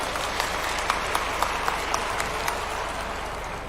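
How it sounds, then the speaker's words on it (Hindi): A crowd at a political event in India applauds steadily, a dense wash of clapping with a few sharper claps standing out, continuing without pause. "एक बार जोरदार तालियों से उनका स्वागत सभी लोग करते हैं"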